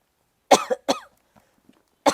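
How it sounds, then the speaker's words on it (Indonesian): Several sharp coughs in quick succession, a pair of hacking bursts followed by a pause and one more cough, close and fairly loud. "Tambah batuk."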